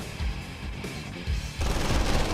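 Dense, continuous gunfire and rapid shooting from Red Alert 2 battles, loud and sustained, with a heavier burst of fire toward the end, no talking.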